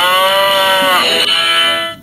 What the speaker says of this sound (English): You could win a mooing fridge cow.